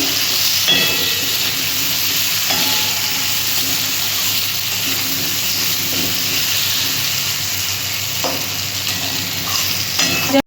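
Potatoes fry in hot oil in an uncovered pan, a steady close sizzle with soft crackles and the occasional light stir, going on throughout with no talking.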